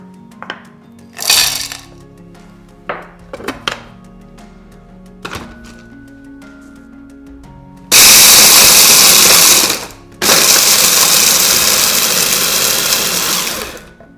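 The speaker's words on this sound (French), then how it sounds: "je vais commencer par mixer mon praliné rose" A food processor blends pink praline in two loud sustained whirring runs, preceded by scattered knocks and clunks of the pieces and lid.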